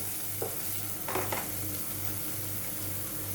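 Ground masala paste frying in a pan for a Malvani-style raw jackfruit bhaji, with a steady low sizzle and a few brief scraping stirs, close and fairly quiet.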